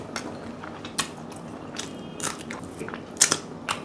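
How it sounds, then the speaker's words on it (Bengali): Someone bites into and chews steamed hilsa fish, with soft wet chewing and a few sharp crunchy crackles close to the ear, spaced irregularly and with no speech. "মাছটা ভক্ষণ করা যাক"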